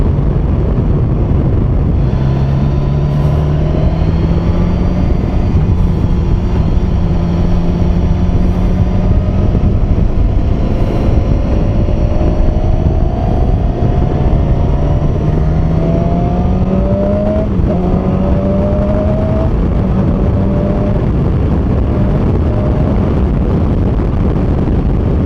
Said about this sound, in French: Une excellente moto.